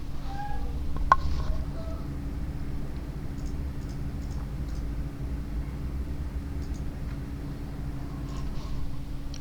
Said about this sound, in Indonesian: ini kucing gue masuk lagi